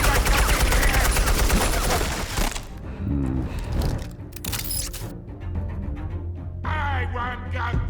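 Gunfire rings out in a Friday the 13th video game, a loud dense burst of rapid automatic shots filling the first seconds, then scattered sharp cracks and booms amid game noise and music.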